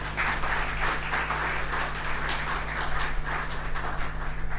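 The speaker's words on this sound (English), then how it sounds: "I thought I'll get a clap." A conference audience claps steadily for a few seconds at a university anniversary research event, a dense patter of hands under a low hum in a hall.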